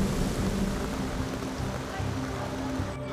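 Steady May rain hiss over a school garden in Hamburg, with a low, rumbling wash underneath, continuous and fairly quiet, with no voices.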